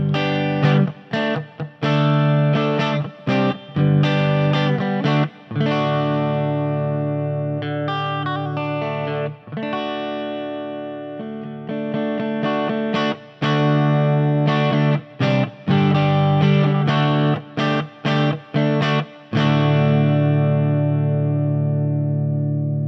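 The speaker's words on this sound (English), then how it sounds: "this will just give me a good deluxe reverb kind of sound" Electric guitar played through a Quilter 101 Mini Reverb amp with reverb set for a Deluxe Reverb-style tone, loud and close, with sustained ringing chords and picked phrases separated by brief pauses.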